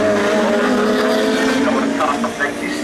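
Saloon race cars, road-going saloons, roar past at Crimond Raceway, a loud continuous engine drone with a passing pitch sweep near the end, under a commentator's steady race call.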